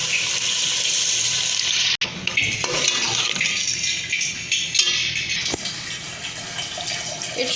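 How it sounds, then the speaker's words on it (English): Water poured into a pot of chicken and potatoes for an aloo curry, a steady rushing splash close by that runs unbroken throughout with no talk over it. "Add water."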